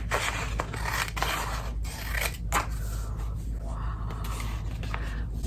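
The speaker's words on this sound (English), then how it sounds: "Now, we're just gonna get in there and cut this out." Scissors snip through paper while cutting out a ladybug craft, a run of close, crisp cuts and scrapes repeating steadily over a steady low background hum, with no talking.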